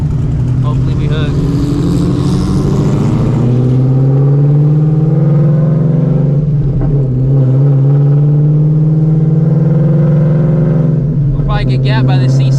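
A twin-turbo 900HP Shelby GT350 Mustang accelerating hard in a street race, with a loud, sustained engine drone that rises in pitch through the gears and a person talking over it.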